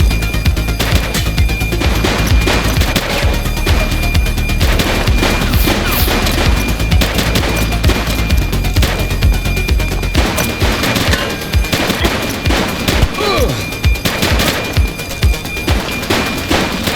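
Gunfire in The Precinct, a police game: sustained loud bursts of rapid shots and crackling volleys fill the scene, with dense, continuous firing throughout.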